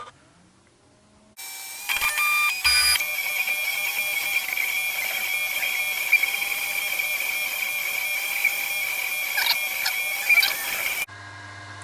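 A 3D printer runs steadily after a button press, its mechanism whirring with a constant tonal hum and occasional clicks while printing a nose part for a quadcopter frame, close and continuous for about nine seconds.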